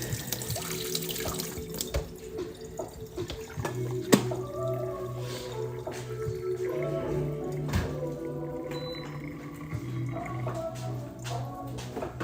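Water pours and splashes steadily from a tap while tie-dye fabric is rinsed, with a faint dripping and occasional clatter, quiet and close.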